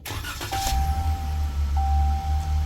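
A truck is switched back on: a low engine rumble runs steadily throughout while a steady electronic warning chime tone sounds close by, pausing briefly partway through.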